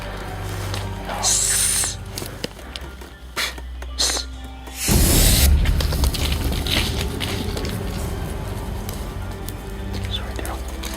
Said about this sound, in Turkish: O an sprey devreye giriyor.